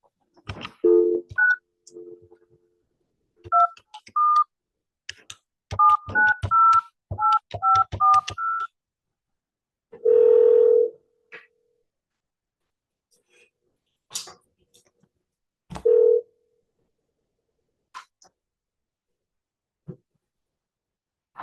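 Telephone tones sound after a call is disconnected: a scattered run of short keypad-style beeps, then two longer steady tones several seconds apart, with silence between them.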